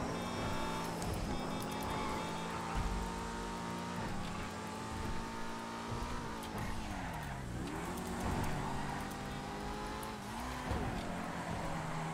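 Race car engines roar and rev continuously in a transforming racing video game, with rising and falling pitch as the car shifts and corners, and occasional tire squeals, loud throughout.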